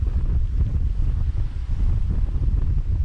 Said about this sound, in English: Getting a nice breeze.